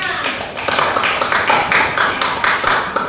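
A school class claps hands together, producing a fairly loud, irregular patter of claps at close range that carries on steadily, with some tapping mixed in.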